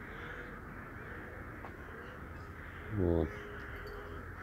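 A single loud crow caw rings out near the end of an outdoor scene where a flock of crows circles below flying pigeons, standing clearly above a quiet, steady background hum; a man's brief word is spoken.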